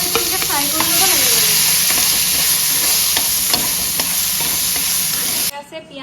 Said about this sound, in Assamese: এনেকে ফ্ৰাই কৰি ল'ব লাগে